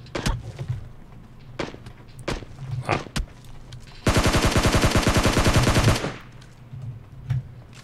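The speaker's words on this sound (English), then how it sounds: "Who's shooting me?" Gunfire from the PUBG Mobile game: scattered single shots, then a sustained two-second automatic burst, then a few more sharp shots, loud and close with no talking.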